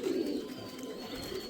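Pigeons cooing near a loft where pigeons are bred and trained, a low, steady murmur of soft coos running continuously with no speech.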